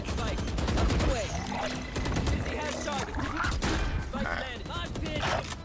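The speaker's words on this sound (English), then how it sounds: "Alright, I'm shooting him." Gunfire in the Valorant video game, rapid bursts of shots and clattering mechanical effects, loud and close, with a voice talking over the action.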